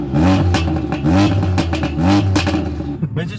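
Fiat Seicento engine fitted with an old Ford Focus turbo revs up and down close by, rising and falling whines in repeated bursts before settling toward a quieter idle.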